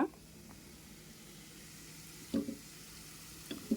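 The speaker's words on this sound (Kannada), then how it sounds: "ಅದು ಹಸಿ ವಾಸನೆ ಹೋಗೋವರೆಗೂ ಹುರ್ಕೊಳ್ಳೋಣ" Cashew curry ingredients dry-roasting in a pan give a soft, steady sizzle, broken by a few sharp clinks and scrapes as they are stirred, with no voices.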